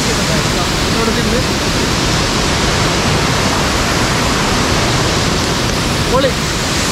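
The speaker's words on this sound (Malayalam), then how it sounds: "വെള്ളച്ചാട്ടം." Steady, loud broadband roar of Palchuram waterfall in Wayanad, Kerala, flowing continuously and evenly throughout, close and without pause.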